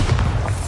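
A Bombarda blasting spell goes off in Hogwarts Legacy as one loud, deep, rumbling boom, close and heavy, lasting under a second with no voices.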